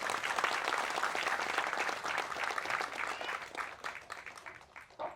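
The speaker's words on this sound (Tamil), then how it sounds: "எல்லாரும் பெரிய கைத்தட்டு தட்டுங்க நம்ம தயாரிப்பாளருக்கு" A movie trailer and audio launch crowd claps for the producer, a steady wash of many hands that gradually thins and fades toward the end.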